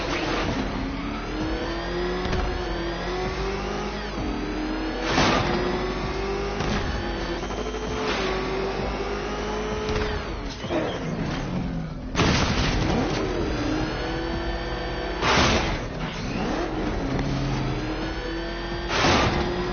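The Batmobile engine in Batman Arkham Knight revs and roars steadily up close, its pitch rising and falling through repeated surges, with sharp bursts of impact noise breaking in along the way.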